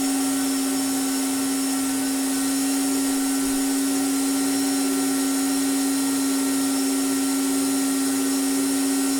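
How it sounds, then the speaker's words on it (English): The power supply in a Bitmain Antminer B3 cryptocurrency miner whirs steadily and loudly with a constant tonal hum, unchanging from start to finish and with no talking. "Yeah, that noise is the power supply."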